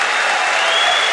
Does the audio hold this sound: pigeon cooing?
no